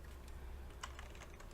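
Someone types on a computer keyboard while entering a search term in the Windows 10 taskbar search box: a quick run of soft, close keystroke clicks over a low, quiet room hum.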